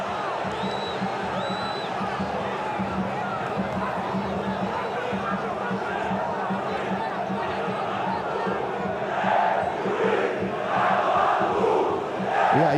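A Vasco football crowd chants at the referee during a Brasileirão match against Fluminense, a vast, steady stadium roar that swells louder toward the end while a commentator talks over it.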